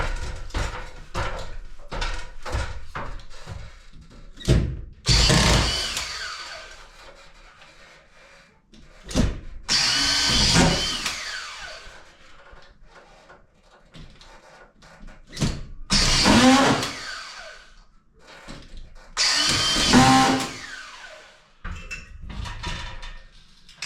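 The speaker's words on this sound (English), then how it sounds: "Screw gun out today." Screw gun driving screws into plasterboard on walls and sloping ceilings, several short whirring bursts separated by pauses and scattered knocks and handling clatter.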